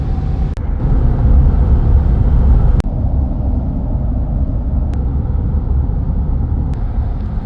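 Inside a car on a drive toward Johannesburg, a steady low road and engine rumble runs throughout, with a few faint clicks and a brief bump partway through.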